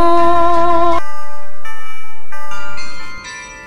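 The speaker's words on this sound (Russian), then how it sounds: "Бьют часы на старой башне, провожают день вчерашний, и звонят колокола." Tower clock bells of the Peter and Paul Fortress ring in a loud, close sequence of sustained tones that shift in pitch from strike to strike and let each note hang and overlap, fading at the end with no voices.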